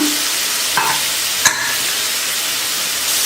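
Onions frying in a pan for tomato gojju: a loud, steady, close sizzle with a couple of brief stirring scrapes and knocks.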